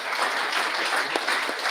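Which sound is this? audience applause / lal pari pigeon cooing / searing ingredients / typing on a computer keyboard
audience applause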